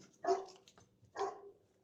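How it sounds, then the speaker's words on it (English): A big dog gives two deep, close barks about a second apart, loud and alone with no talking. "that's a big fucking dog right there."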